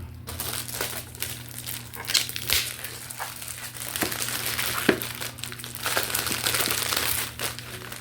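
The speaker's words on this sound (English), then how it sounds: "let's get this thing up out the plastic" A fragrance bottle is pulled free of crinkly plastic wrapping, with close, irregular crackling and crumpling bursts that keep going for several seconds at a fairly quiet level.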